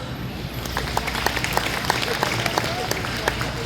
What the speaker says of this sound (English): go ahead and give Carrie a round of applause